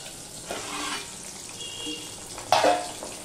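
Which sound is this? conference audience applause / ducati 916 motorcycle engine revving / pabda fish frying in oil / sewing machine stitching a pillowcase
pabda fish frying in oil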